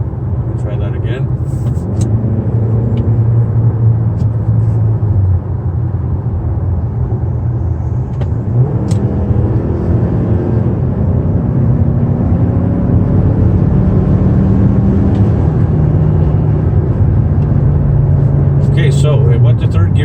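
2019 Mazda CX-5 engine revving hard under acceleration from inside the cabin, a loud continuous drone that climbs in pitch and shifts with gear changes, with a person talking over it.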